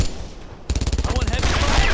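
Dense gunfire in the WWII shooter Brothers in Arms: Earned in Blood, during a street fight in St Sauveur: after a quieter lead-in, a rapid, rhythmic burst of machine-gun shots erupts up close, then blends into steady, loud battle noise.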